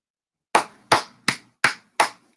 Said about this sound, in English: Hold on, I gotta give you a clap for that